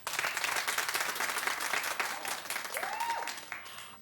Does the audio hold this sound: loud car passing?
no